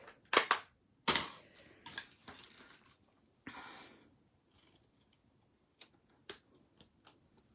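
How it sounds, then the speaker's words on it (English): Scissors snipping through card stock while trimming a border for a handmade Christmas card, several sharp close cuts spread across the clip with brief quiet gaps between them. "So I'm going to be cutting this one with the scissors"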